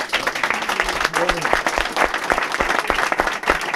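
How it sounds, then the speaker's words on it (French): Crowd applause at a 2014 municipal election campaign meeting in Brignoles, clapping for a mayoral candidate's deputies, with scattered sharp claps and a few voices talking over it for a few seconds. "je vous demande aussi de les applaudir quand même"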